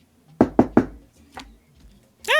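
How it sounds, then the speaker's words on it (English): Three quick knocks on a door, close and sharp, followed by a softer fourth rap; a voice briefly joins at the end. "knock on the door."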